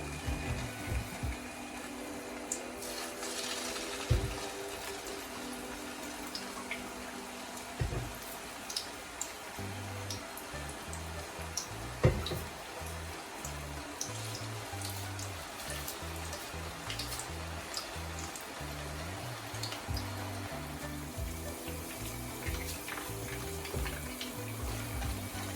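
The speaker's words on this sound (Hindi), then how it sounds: "और अब मैं इसमें कोफ्ते फ्राई करती हूँ।" Chicken kofta frying in hot oil: a continuous, even bubbling sizzle with occasional pops and small clinks, running steadily with no talking.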